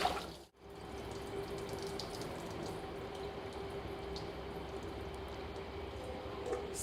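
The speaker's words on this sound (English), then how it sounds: "So let's drain our potatoes." Water from boiled potatoes pours steadily into a colander set over a bowl, a continuous rushing splash that holds at an even level throughout with no talking.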